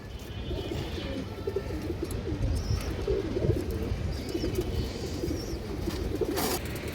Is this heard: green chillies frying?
no